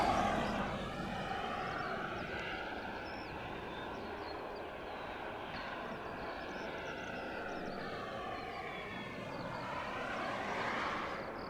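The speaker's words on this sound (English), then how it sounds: "That is an absolutely stunning aircraft. The Air Bridge Cargo Boeing" An Air Bridge Cargo Boeing 747 cargo jet passing: a sustained, broad engine roar with shifting whine tones, loud and steady throughout.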